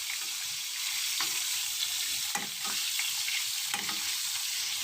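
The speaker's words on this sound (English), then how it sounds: "here we're gonna baste the pork chop with the butter so it can stay juicy and give it more flavor." A pork chop sizzles in a hot pan while being basted with butter, a steady loud crackling fry with occasional spoon scrapes and splatters, close up and without any talk.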